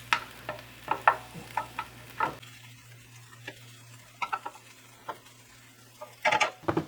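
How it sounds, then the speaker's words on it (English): Cold rice chopped and stir-fried in oil in a pan for Japanese-style chicken fried rice: a soft sizzle under repeated sharp spatula taps and scrapes in uneven bursts, close by, with no speech. "Now when you add in the cold rice, you want to make sure that you cut up the grain."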